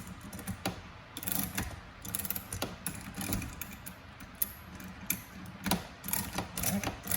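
A golf club shaft puller is cranked by hand in reverse while rebuilding clubs. It makes irregular mechanical clicks, ratcheting and grinding creaks that are close and moderate in level, with no voices.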